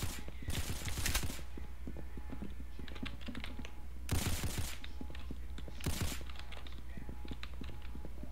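Pistol gunfire in Roblox Arsenal: a few short bursts of rapid shots in separate clusters over constant background game noise, with a voice talking between them.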